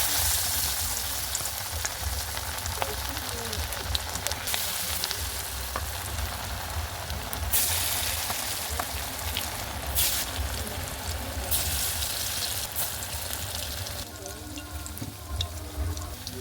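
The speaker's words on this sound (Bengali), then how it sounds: "এবার আমি পেঁয়াজিগুলো ছেড়ে দেবো।" Dal peyaji fritters, spiced lentil-and-onion bites, fry in hot oil with a steady, loud, continuous sizzle and crackle, close by and uninterrupted, with faint kitchen clatter beneath.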